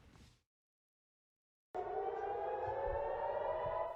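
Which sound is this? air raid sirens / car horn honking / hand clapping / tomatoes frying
air raid sirens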